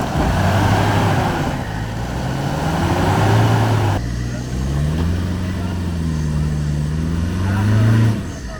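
A car engine revs hard and steadily, its pitch rising and falling as the wheels spin while bogged on a rough outback road, with people talking over the engine.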